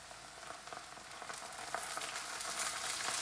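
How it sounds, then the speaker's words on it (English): Ground pork hitting a hot pan of browning ginger and garlic, a dense, steady sizzle like rain that swells slightly louder partway through, close and continuous with no voices. "add to the ginger and garlic, which is browning quite quickly and nicely, is we'll add some pork"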